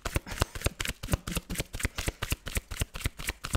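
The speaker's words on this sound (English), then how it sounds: "Cards are flying." Tarot cards are shuffled briskly by hand in quick, even riffling bursts, close up and alone with no talking.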